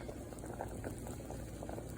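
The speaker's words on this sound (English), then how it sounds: "All right, the water is boiling, so I'm going to lower the heat" Water at a rolling boil in a pot for split pea soup bubbles and gurgles steadily and softly close up, with no talking over it.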